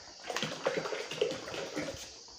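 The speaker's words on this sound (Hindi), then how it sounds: "डायरेक्ट पानी भी डाल देते हैं" Water is poured while homemade soda water is made in a studio: a short, soft splashing and trickling stream lasting a couple of seconds, fairly quiet and close.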